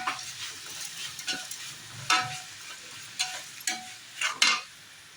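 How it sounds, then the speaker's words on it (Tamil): Desi chicken biryani masala with rock salt being stirred in a pan: a low frying sizzle under repeated scraping strokes that come in irregular bursts, a few louder near the end, with no talking. "தேவையான அளவுக்கு நல்லா கிளறி விட்டுருங்க"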